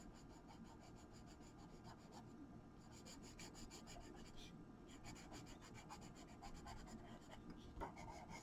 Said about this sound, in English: all I'm doing here is just straight lines with a slightly dull pencil